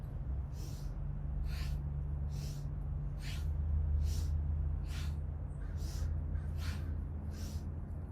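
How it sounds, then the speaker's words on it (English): During kundalini yoga practice a person breathes forcefully in a steady rhythm, with about nine sharp breath bursts roughly a second apart over a low constant hum. "Inhale left, exhale right."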